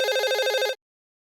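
A landline telephone rings with one loud, close, electronic warbling burst that stops abruptly, then silence, with no talking.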